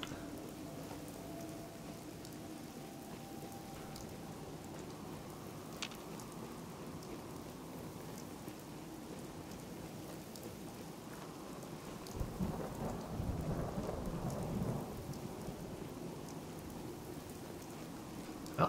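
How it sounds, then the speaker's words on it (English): Steady rain and rolling thunder in a post-apocalyptic video game, a continuous wash of rainfall with a low rumble swelling louder about two-thirds through, alone without talk. "is it just gloomy because it's raining?"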